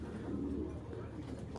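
Giribaz tournament flying pigeons, a black-tailed green-necked pair, coo in a low steady murmur that runs throughout, with faint bird chirps above.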